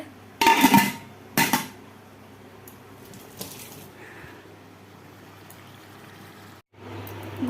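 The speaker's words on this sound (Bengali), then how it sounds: "এখানে চিকেনটাকে ভালো করে কষিয়ে নিচ্ছি আর হাঁড়িতে দেখো গরম গরম ভাত হয়ে গেছে" Chicken is sautéed in a pot while rice finishes cooking: two loud metal clatters from a utensil are followed by a quiet bubbling, simmering background, with another brief clink near the end.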